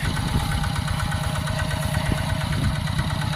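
A tractor engine runs steadily at close range, a continuous low, rough idle-like rumble with slight knocking vibration throughout, loud and unbroken with no voices.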